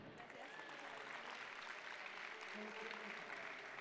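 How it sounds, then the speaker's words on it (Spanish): Steady, dense applause from a stand-up show crowd, fairly faint and distant, a continuous wash of many hands clapping without a break. "Un aplauso, Stephanie."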